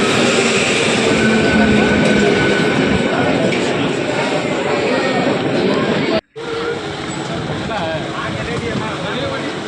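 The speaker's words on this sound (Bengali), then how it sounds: "আর ট্রেন চলে" A train rumbles steadily past with dense, broadband clatter, loud and continuous, cutting out briefly before resuming, heard from a railway platform beside a puffed-rice vendor.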